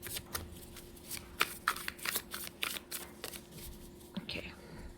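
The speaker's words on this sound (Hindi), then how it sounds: "मैं कुछ कार्ड्स आपके लिए निकालूंगी" Tarot cards are shuffled and drawn close to the microphone as a run of soft riffling and flicking bursts. A quiet, whispery voice talks faintly underneath.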